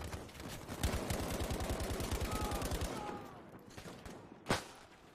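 Rapid machine gun bursts lay down suppressing fire in the Battlefield V video game, a dense string of close, loud shots for about three seconds, then quieter battle ambience with a single sharp bang near the end.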